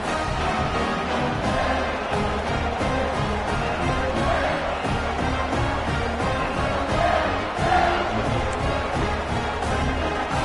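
A big football stadium crowd at a Florida at Michigan college game makes a dense, steady roar with swells of cheering. It stays continuous and loud throughout, with no clear single voice.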